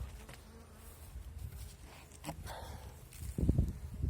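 Bees in an opened wooden hive in winter make a soft, continuous buzz, with faint rustling and a louder thump of handling near the end.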